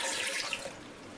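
Water pours steadily for just over a second into a blender jar holding soaked, peeled almonds, a close, continuous splashing rush.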